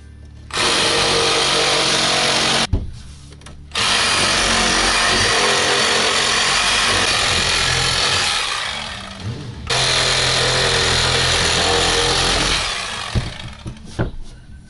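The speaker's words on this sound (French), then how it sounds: "on peut mettre la scie sabre légèrement en biais comme ça" A reciprocating saw, held at a slight angle, cuts through the edge of a wooden beam in loud, steady bursts, stopping briefly twice before the final stretch of cutting.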